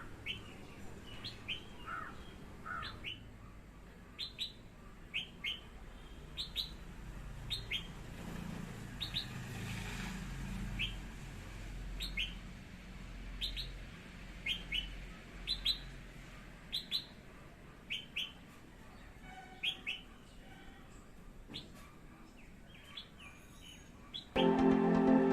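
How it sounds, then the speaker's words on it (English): A Red Whiskered Bulbul sings from a terrace garden ladder, repeating short bright melodious phrases at steady intervals over a faint hum of traffic, with a sharper sound near the end. "The Red Whiskered Bulbul sitting on my terrace garden ladder and singing."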